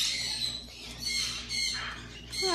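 An African grey parrot gives a run of sharp, high squawks and chirps up close, several distinct calls spread across a few seconds, with no talking.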